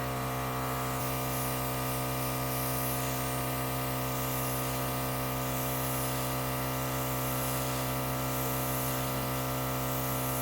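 An airbrush sprays makeup onto a tissue, giving a steady, close hiss over the constant hum of its compressor, with no breaks for about ten seconds.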